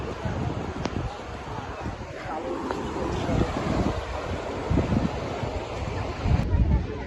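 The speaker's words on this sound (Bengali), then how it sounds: "ভাই রে ভাই কি হাওয়া চলছে।" Strong wind buffets the microphone in a steady, loud roar at an open coastal spot near Digha after rain, with gusts swelling toward the end and no clear talk.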